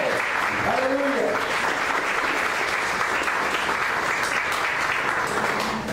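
A church congregation claps and cheers in praise, sustained dense applause at full loudness across the whole stretch, with a brief voice calling out near the start.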